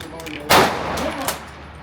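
A gun being racked to clear it at a gun range, a sharp loud metallic clack followed by a second fainter clack a moment later.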